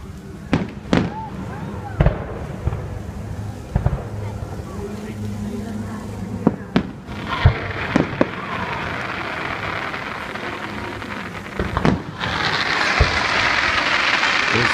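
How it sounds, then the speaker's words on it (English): Fireworks bang and crackle repeatedly over Tom Sawyer Island at Walt Disney World's Magic Kingdom, some sharp close bursts, others distant, over a steady hiss of crackling, with occasional voices in the background. "Fireworks everywhere."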